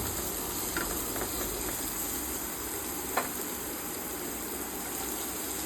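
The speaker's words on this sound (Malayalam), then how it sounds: "ഒരു കപ്പ് ക്യാബേജ് കനം കുറഞ്ഞരിഞ്ഞത് ഇട്ട് കൊടുത്ത് അത് അതുകൂടി ഒരു രണ്ട് സെക്കൻഡ് വഴറ്റിയതിന് ശേഷം" Thinly sliced cabbage sautéing in a pan gives a steady, even sizzle and hiss that runs the whole time, with a faint clink or two.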